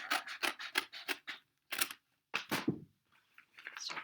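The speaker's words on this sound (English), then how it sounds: "I'm going to cut off this binding" Scissors snip through the binding of a handmade book in a quick run of crisp, close cuts, then a pause and a few more rasping cuts and paper rustles, with no talking.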